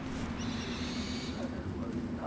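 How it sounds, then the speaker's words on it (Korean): In the stone-age game Far Cry Primal, a summoned owl gives a low, steady hooting call, sustained over ambient night-forest background noise. "이럴 때 올빼미를 부릅니다."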